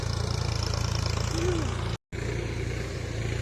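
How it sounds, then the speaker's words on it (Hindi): A tractor engine runs steadily during rice transplanting in a village field, giving a loud, continuous low drone that cuts out for a moment before resuming. "ट्रैक्टर चलि रहल छनि"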